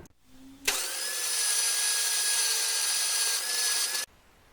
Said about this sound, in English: Just brushing off with some wire wool here.